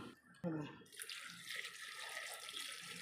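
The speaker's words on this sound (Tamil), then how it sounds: "இப்போ தண்ணி ஒரு கிளாஸ் ஊற்றிக்கலாம்." Water from a glass pours into a cooking pot for a bitter gourd stir-fry, a steady splashing rush that starts after a brief clatter and continues close and fairly loud to the end.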